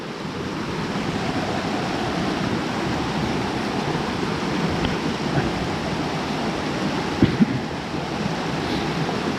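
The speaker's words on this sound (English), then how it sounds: "one of the more spectacular parts with that waterfall" A waterfall on a small stream swollen after heavy rain roars as a steady broadband rush, loud and continuous, with a brief knock near the end.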